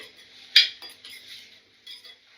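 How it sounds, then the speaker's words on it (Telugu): Tomato pieces are stirred in oil in a pan, with a spoon scraping and clinking against the metal in light, irregular taps, one sharper clink standing out. "ఈ టమాటా ముక్కల్ని 2 నిమిషాల పాటు ఇలా కలుపుకుంటూ మగ్గించుకోవాలండి"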